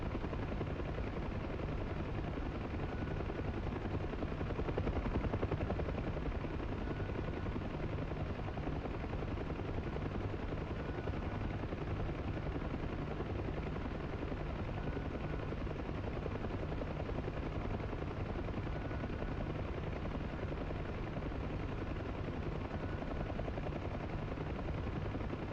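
An Mi-24 Hind helicopter in a flight simulator game set over the Sinai approaches with a constant heavy rotor and turbine rumble, loud and steady throughout, with no voices.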